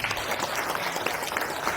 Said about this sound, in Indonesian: Ketua Umum Bung Syahrin Hamid, tepuk tangan untuk beliau.